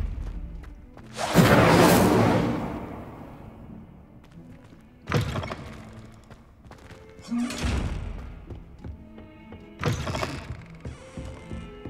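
An Incendio fire spell cast in Hogwarts Legacy, a loud whooshing flare followed by several shorter bursts and thuds spaced a few seconds apart.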